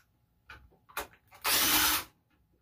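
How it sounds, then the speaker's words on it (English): A cordless impact wrench fitted with a 10 mm socket on a compressor's mounting bolts gives a short, loud burst after a few clicks and knocks, up close. "I'm going to use this impact just for ease of speed for you guys, so I'm not sitting here cranking on a wrench all day"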